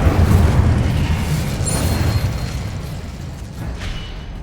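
Incendio fire spell from Hogwarts Legacy bursting in a heavy, booming blast with a rumbling low roar that slowly decays, loud and close.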